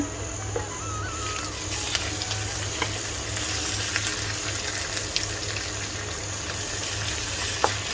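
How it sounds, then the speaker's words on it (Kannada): Ginger garlic paste fries with onions in a pan, a continuous close sizzle with occasional light stirring clicks and a low background hum, and no talking. "ಹಸಿ ವಾಸನೆ ಹೋಗುವವರೆಗೆ ಫ್ರೈ ಮಾಡಿ."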